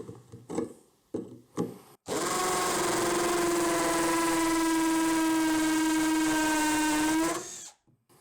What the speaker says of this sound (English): I have swapped to the hammer option.